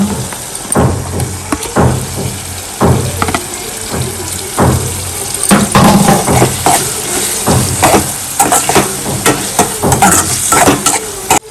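Prawns sizzle in hot oil in a pan while being stirred, a loud close frying hiss broken by repeated scraping strokes of the spoon in an uneven rhythm.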